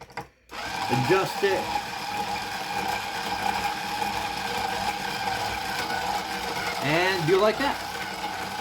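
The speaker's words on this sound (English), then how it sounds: "Take my Ernie Ball powered string winder," An Ernie Ball powered string winder whirs continuously while winding an acoustic guitar string, a close, steady motorized buzz with a pitch that rises and falls, under a person talking briefly.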